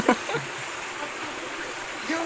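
A tall waterfall in Aklan gives off a steady, broad rush of falling water that fills the background, while brief voices cut in at the start and end.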